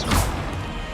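A single burst from the Incendio fire spell in Hogwarts Legacy, a loud, close crash-like whoosh that peaks early and then fades into a dense roar within a second.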